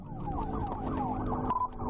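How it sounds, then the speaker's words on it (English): Wailing police siren from a trooper's car in pursuit of a motorcyclist near a roundabout, its pitch sweeping up and down in a steady, repeating cycle, loud and close over road noise. "Lights on, sirens crying, and the movie starts."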